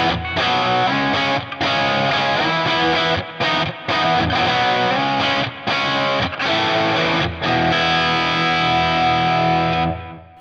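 Distorted electric guitar from an amp modeler played without an EQ cut, loud, thick and saturated chords ringing alone with brief gaps between strums before fading out.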